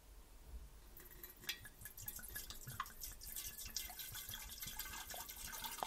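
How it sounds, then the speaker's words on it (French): Rum is poured into a jar, giving a faint, uneven trickle and drip of liquid with small glassy clinks, close by and with no talking. "on va commencer par verser le rhum"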